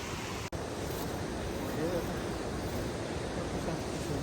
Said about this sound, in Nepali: पहेँलो खोला बगिरहेछ सुनखोला